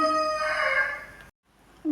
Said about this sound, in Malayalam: നമ്മുടെ കോഴി ഭയങ്കര കൂവലാണ് കേട്ടോ